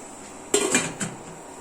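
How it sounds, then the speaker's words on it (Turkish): A metal lid set down on a cooking pot of boiled meat, a sharp clatter followed by a brief ringing rattle and a smaller second clink, close and alone. "şimdi kapağını koyacağız"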